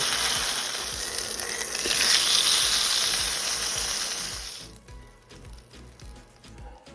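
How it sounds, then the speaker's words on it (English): Telera bread soaked in guajillo sauce fries in hot oil with a loud, steady sizzle that fades into softer crackles and bubbling, up close, with no talking. "we're simply going to fry it."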